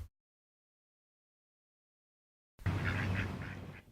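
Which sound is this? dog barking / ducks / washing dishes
ducks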